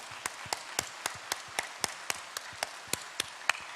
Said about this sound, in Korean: 우리 하나님께 한번 큰 영광의 감사의 박수로 영광 돌리겠습니다.